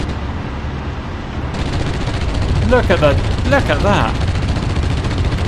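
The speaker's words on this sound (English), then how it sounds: "Now I see what the Marder can do. That is, it's got machine gun rate of fire for 20 mil." A Marder infantry fighting vehicle's 20 mm autocannon fires in DCS World, a dense rapid machine-gun-like stream of shots over a steady rumble, with someone talking partway through.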